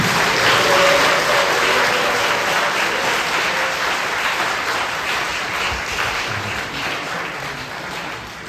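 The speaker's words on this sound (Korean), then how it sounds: "자리로 들어가실 때큰박수로 축복합니다" Church congregation applauding at a pastor's installation service, a loud, sustained wash of clapping from a large crowd that fades slightly toward the end.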